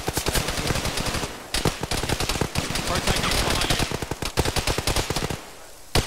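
Rapid bursts of automatic gunfire in a tactical military shooter game, dense repeated shots crackling nearly nonstop for several seconds, loud and close with brief gaps.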